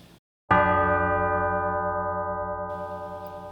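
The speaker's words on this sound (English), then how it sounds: "The bell invites me. Hear it not, Duncan, for it is a knell" A single deep church-style bell struck once rings out loud and close, its rich tolling tone slowly decaying like a funeral knell, with a faint higher ringing joining near the end.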